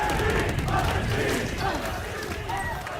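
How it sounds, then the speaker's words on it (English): Large arena crowd at a Valorant esports match roaring and cheering during a timeout, a dense, loud and sustained wash of voices with a commentator talking over it. "What a reverberations from the crowd. You can feel it up on their feet."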